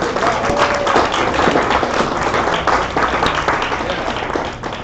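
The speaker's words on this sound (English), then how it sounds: "Let's give them a round of applause." A live audience at a pair programming talk breaks into a steady round of applause, dense clapping filling the whole stretch at an even, fairly loud level, with a few cheers and voices mixed into the crowd noise.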